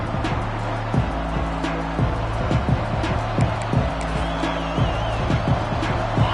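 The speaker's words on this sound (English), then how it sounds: "This crowd ready to make its presence known" A packed stadium crowd at a Texas versus Georgia college football game roars steadily around the kickoff, a dense continuous swell of voices and noise with a commentator talking over it.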